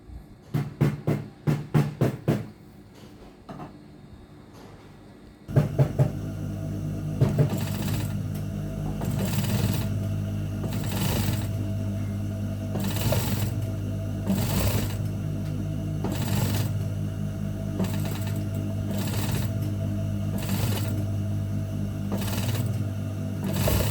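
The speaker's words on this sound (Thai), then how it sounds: "เราเย็บรอบเลยเสร็จแล้วเราค่อยมาเบิ้ลอีกทีนึง" Sewing machine stitching all the way around trouser leg seams, inner and outer, while making flared trousers: a few short bursts first, then a long steady close whirring run with rhythmic pulsing, no talk.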